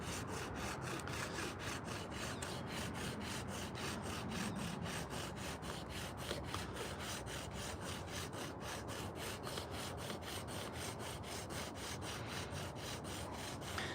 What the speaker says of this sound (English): old broken piece of a belt sander